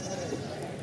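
A goat kid bleats at a Sunday pet market in Erragadda, Hyderabad, one short wavering cry close by, mixed in with voices and market noise.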